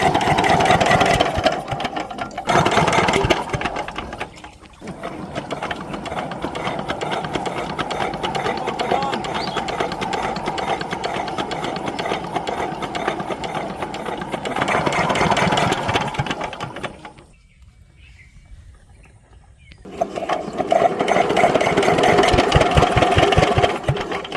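Shallow irrigation pump engine sputtering and running with a steady mechanical chug, loud and close, cutting out briefly and then catching again, with a dead quiet gap near the end before it roars back.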